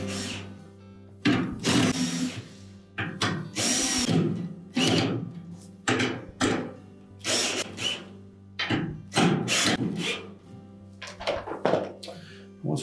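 A power drill tightens screws on the brake stator of a Whirlpool washer, running in repeated short bursts of whirring and revving, close and loud, with brief pauses between each pull of the trigger.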